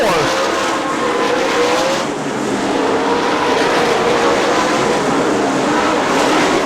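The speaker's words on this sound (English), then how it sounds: "Travis Whitney through 3 and 4, 4 laps down" Sprint cars race at Fremont Speedway, their engines giving a loud, continuous roar that rises and falls as the pack circles, while an announcer talks over the noise.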